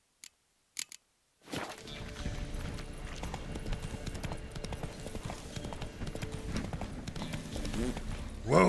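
Roach, a horse in The Witcher 3 video game, gallops with a quick, steady run of close hoof clip-clops over ground, starting after a few faint clicks and a silent gap and continuing to the end.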